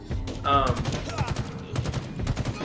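Rapid bursts of automatic gunfire from Halo Infinite multiplayer, with loud, dense volleys of shots running through the whole stretch and a voice talking underneath.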